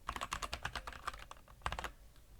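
Rapid clicking keystrokes on a computer keyboard come in a quick burst, a short pause, then a few more taps, close and fairly quiet with no voice.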